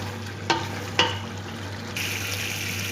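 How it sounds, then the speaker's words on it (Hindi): Chicken jalfrezi fries in a pan with a continuous sizzle, broken by two quick utensil clinks early on, and the hiss turns brighter partway through. "इसको हम तकरीबन 5 से 7 मिनट के लिए अच्छी तरह भून लेंगे"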